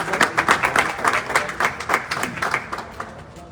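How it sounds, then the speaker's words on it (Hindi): Applause from an audience at a motivational business award gathering, dense continuous clapping from many hands that stays strong throughout and tapers slightly at the end, with no talk over it. "यशपाल जी, जोरदार तालियां होनी चाहिए"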